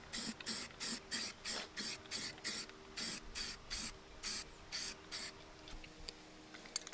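Primer paint hissing from a spray can onto lightweight wheels, about a dozen short bursts in a steady rhythm, close and fairly loud, followed by a quieter tail near the end.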